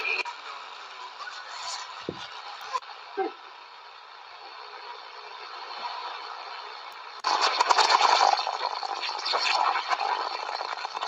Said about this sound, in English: A lot of nonsense signals, a lot of static.